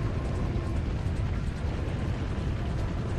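A big bomb going off in Resident Evil 4 on PS4 makes a loud, sustained rumbling roar, a dense low-heavy blast wash that stays even for several seconds with no talk over it.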